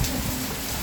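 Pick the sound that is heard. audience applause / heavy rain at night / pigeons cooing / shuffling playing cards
heavy rain at night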